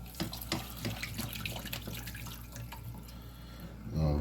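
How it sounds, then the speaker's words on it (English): Condensed chicken soup is thinned with a can of water poured into a pot, a steady splashing, running pour that continues for several seconds at close range with no talking. "we put in first our chicken soup and a can of water because it's condensed."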